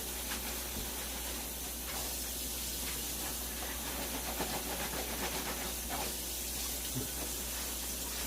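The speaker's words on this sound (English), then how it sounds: "gonna rinse off our screen real good" Steady hissing water spray rinses a hash washing screen, a continuous close, loud rush of water with no talking.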